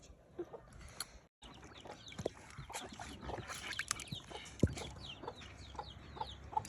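Hens cluck softly close by, with faint high peeping from chicks and scattered rustling in a quiet outdoor yard.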